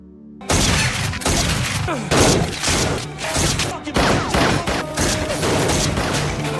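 A shootout with police in the action film Breakout, with rapid bursts of gunfire and sharp impacts over a tense music bed. The shots are loud and dense, with crashing hits scattered through the whole stretch.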